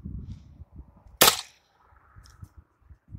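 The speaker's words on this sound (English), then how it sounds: "Let's see what we can find to shoot at." A single sharp crack from a homemade gun fired outdoors at hay bales, loud and brief against quiet low rumbling and faint background murmur.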